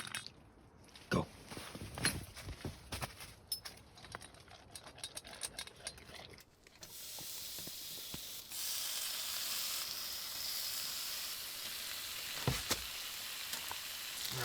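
A grilled cheese sandwich fries in a pan set right over an open flame at a snowy winter campsite in -16° cold. Scattered crackles and pops come first, then a dense, steady sizzle takes over and continues to the end.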